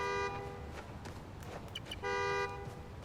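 Car horn honking in Spider-Man: Miles Morales, two long steady blasts near the start and again about two seconds later, loud and close over faint street ambience.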